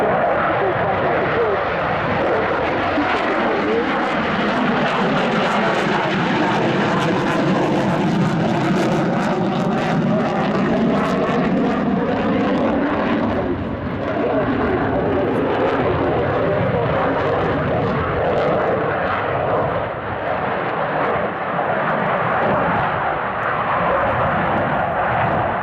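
A Polish Air Force Mikoyan MiG-29 jet roars through a flying display at RIAT 2012, a loud, sustained engine rumble that swells and shifts in pitch as it passes overhead.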